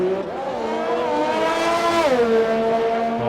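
Racing car driving a lap of the Monaco track, its engine note loud and close, rising in pitch under acceleration, then dropping with a gear change and climbing again.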